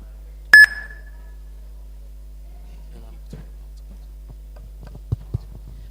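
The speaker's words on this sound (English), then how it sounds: "once we hear the beep" A single sharp electronic beep sounds once near the start at a competition grand finale, then only faint scattered ticks and soft rustles follow in a quiet room.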